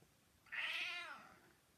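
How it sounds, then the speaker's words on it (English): A ginger cat gives a single clear, rising-then-falling meow of under a second, close and fairly loud against a quiet room with no talking. "Joseph, my ginger cat appealing for his second supper"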